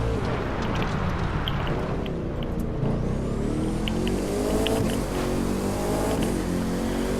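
A race car in The Crew 2 video game accelerates hard through its gears, its engine roaring loudly and continuously with the pitch climbing through each shift, and no talking.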